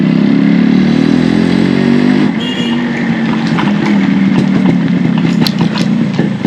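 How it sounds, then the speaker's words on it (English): A fully restored Yamaha RX 100 motorcycle engine rumbles loudly up close, its exhaust revving and then settling into a throbbing idle with clattery pops. "You can hear the exhaust."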